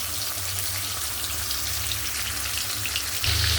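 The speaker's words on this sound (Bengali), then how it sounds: "কড়া করে ভাজা করে নিচ্ছি।" Rohu fish pieces frying crisp in hot oil, a steady close crackling sizzle with popping spatter that grows louder near the end, no voices.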